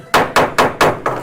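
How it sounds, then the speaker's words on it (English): Five sharp wooden gavel strikes in quick, even succession at a city council special budget meeting, each a loud, close knock with a short ringing decay. "That was a scary hammer."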